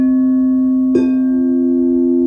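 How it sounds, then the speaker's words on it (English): A crystal singing bowl used on a sound journey sustains a pure, steady ringing tone, and a single soft strike partway through adds a brief shimmer of overtones while the hum rings on alone. "We then move on to the beautiful crystal bowls."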